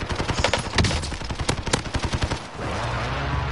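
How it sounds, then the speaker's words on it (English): Rapid enemy gunfire in a video game, a dense burst of loud, close shots cracking in quick succession for a few seconds, then giving way to a steady mechanical hum. "He's shooting me from Garrow Station."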